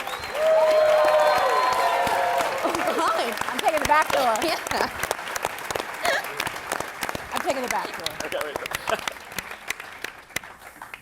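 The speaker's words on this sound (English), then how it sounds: "Let's give it another round of applause, please." An audience at a film Q&A applauds loudly at first, then the clapping thins out while people near the stage chat over it.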